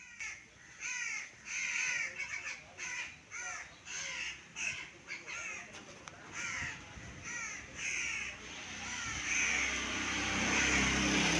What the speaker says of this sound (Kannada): ಕೂಗೋದ್ರಲ್ಲಿ ಬರೀ ಕಾ ಕಾ ಕಾ